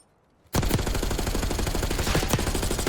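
Sustained automatic gunfire in a Call of Duty match bursts in after a brief quiet and keeps up a loud, rapid, unbroken rattle of shots to the end.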